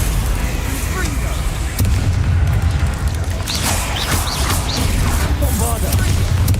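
Confringo fire-spell blasts from Hogwarts Legacy gameplay hit as repeated booming impacts over rumbling game action, with a voice shouting spell names over the explosions.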